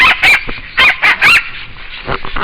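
Hunting dog on a Hawaii hog hunt lets out a run of sharp, high yelping barks and whimpers in quick bursts, close and loud, with rustling and movement between the cries.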